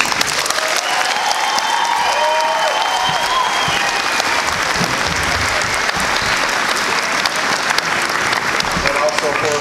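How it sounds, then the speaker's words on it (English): Continuous loud applause from a crowd at a high school graduation in Little Axe, Oklahoma, honoring the graduating seniors, steady and unbroken throughout, with faint voices mixed in. "One more round of applause for this outstanding group of seniors."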